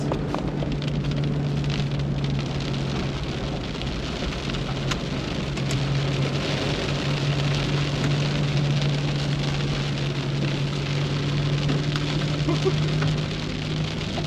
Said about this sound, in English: Oh, it starts to rain.